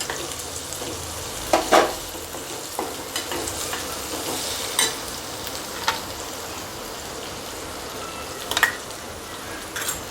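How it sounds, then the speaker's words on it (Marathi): Onions are sautéed in a pan for a green potato vegetable dish, giving a constant near sizzle with occasional sharp spatula knocks and scrapes scattered through. "त्यानंतर कांदा छान परतवून घ्यायचं आपल्याला"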